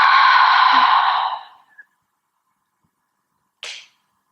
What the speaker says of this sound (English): Take a big breath out, release it,